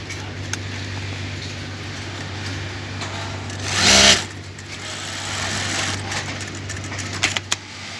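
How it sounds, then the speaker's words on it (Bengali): A sewing machine with a freshly timed rotary hook runs one short, loud burst of stitching through cloth, set against a steady low motor hum. "সেলাই করব। দেখবো যে আমাদের টাইমিং চলে ঠিক হয়েছে কিনা।"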